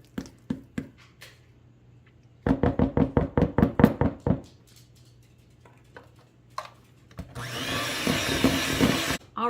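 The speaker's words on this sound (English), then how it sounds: "We are going to turn the mixer back on and mix these up" Electric mixer beating peanut butter bar batter in a bowl. A series of sharp knocks and taps comes first, then the mixer starts with a loud, steady whirring buzz for the final couple of seconds.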